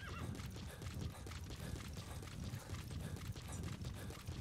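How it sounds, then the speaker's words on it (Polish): Horse galloping in the Metal Gear Solid V video game, a continuous fast clip-clop of hooves with a neigh, fairly faint and steady throughout with no talk. "Dobra, to lecę na drogę z koniem i próbuję nadgonić."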